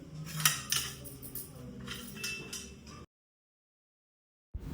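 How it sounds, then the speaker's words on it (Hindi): Metal utensils and dishes clinking and clattering as they are put away, several sharp scattered knocks and scrapes over about three seconds, then silence before a brief noise returns. "ये सारे बर्तन रखने वाले हैं,"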